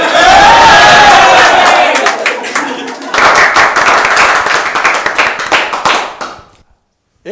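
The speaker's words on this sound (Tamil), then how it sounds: "ஹலோ, எதுக்கு இப்போ கைதட்டுறீங்க" An audience in the Behindwoods studio claps in a dense, loud burst of applause that carries on steadily for several seconds before stopping abruptly, with voices mixed in.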